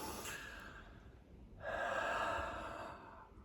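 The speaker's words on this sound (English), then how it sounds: "My breathing might be quite high up in my chest." A person demonstrating shallow breathing high in the chest, with quiet close breaths, a sharper intake near the start and a longer, louder breath in the second half.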